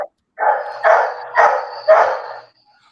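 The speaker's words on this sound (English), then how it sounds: "That sounds like Kevin's dogs" Dogs bark in a quick run of four loud, close yelps at an even pace, with no voices over them.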